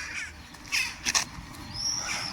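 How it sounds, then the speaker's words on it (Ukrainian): Crows caw in a few short, harsh calls over quiet outdoor background noise on a walk in the Poltava region of Ukraine, with other birds faintly in the distance. "а тут вороні. Їх багато-багато."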